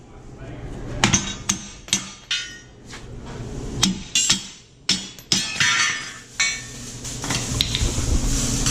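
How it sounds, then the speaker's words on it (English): Sharp metallic hammer blows ring out, about a dozen irregular strikes close by, knocking a bolt out of a cutting edge on a Western MVP3 snowplow, with someone talking between them. "just go around with a hammer, smack out the bolt on the back side"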